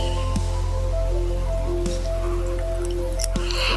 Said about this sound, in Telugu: వాటర్ యాడ్ చేసిన తర్వాత లో ఫ్లేమ్లో పెట్టుకొని కలుపుకోవాలి